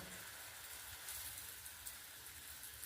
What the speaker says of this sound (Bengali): সাদা তেলের সঙ্গে একটু বাটার দিয়ে দিচ্ছি। এবার এটা এরকম করে দিয়ে ভেজে নেব।